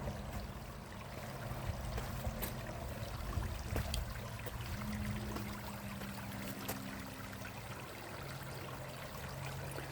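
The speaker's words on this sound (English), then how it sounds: "All this water is coming out of the mountains from the recent rains." Water of Trabuco Creek, swollen after recent rains in the mountains, flows in a steady, moderately faint rush with a broad hiss and occasional small splashes, heard outdoors with no one talking.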